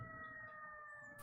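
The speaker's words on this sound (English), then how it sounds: "More sirens." Emergency sirens wail steadily throughout, a sustained tone holding over a constant rumble of background noise, heard alone with no talking.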